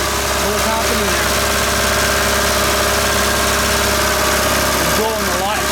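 An old BUDA diesel engine, seized for years, runs loud and rough after breaking free, a dense continuous throbbing roar that fills the whole stretch.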